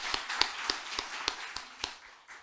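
Scattered hand claps from a church congregation during a pastor's installation service, a loose handful of sharp claps in an uneven rhythm at moderate volume, spread through a reverberant room.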